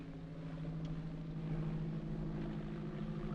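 A plane in flight drones with a steady low engine hum, a continuous throbbing rumble at moderate level with no voices over it.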